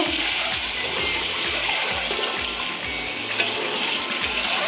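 Eggs frying in a pan, giving a loud, dense, continuous sizzle with light stirring scrapes underneath and no voices.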